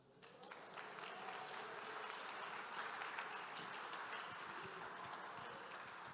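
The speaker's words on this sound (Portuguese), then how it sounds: "Aplaude o Senhor Jesus." A church congregation applauds during a sermon, a sustained wash of clapping that swells after a quieter start and holds steady, moderately distant and fairly faint.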